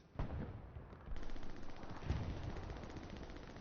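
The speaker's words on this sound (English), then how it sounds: "And there was an explosion." Artillery shell blast during a competitive multiplayer war game match: an initial sharp boom followed by rolling, sustained rumble and a second heavy impact, loud and alone with no talk.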